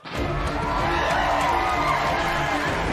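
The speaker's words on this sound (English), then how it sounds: "The crowd is something else" A large crowd at the E3 2019 press conference cheers and shouts in a loud, steady roar that lasts the whole stretch without pause.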